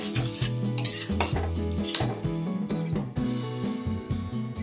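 Mashed eggplant being mixed in a kadai for begun bhorta: a spatula scrapes and clinks against the pan in quick repeated strokes, close by, with music playing underneath.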